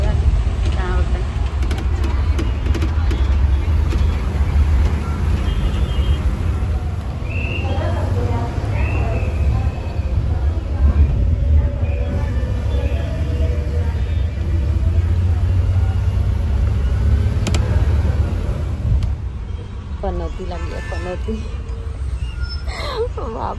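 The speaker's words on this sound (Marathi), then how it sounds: "पूर्ण ट्रॅफिक जॅम आहे सगळीकडे" Steady low rumble of stalled expressway traffic, cars and buses idling and creeping in a jam, heard continuously from inside an ST bus with voices talking over it throughout.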